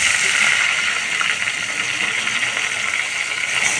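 Half a kilo of rice tips into a pot of browned onions for a fish rice dish, making a rushing, hissing pour with frying sizzle, close and continuous.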